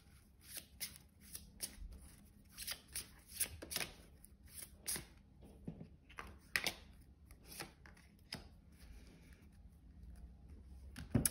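Tarot cards are shuffled by hand close up, a series of soft riffling and slapping bursts with short pauses between them, quiet and without speech.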